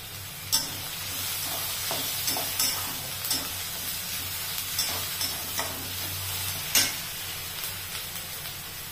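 Dried red chilies frying in hot oil, a steady sizzle under a low hum with sharp crackles and pops at intervals, fairly close and alone.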